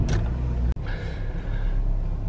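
A Dacia car engine idles steadily up close, a low continuous rumble with a brief sharp click near the start and a faint higher whine over the top.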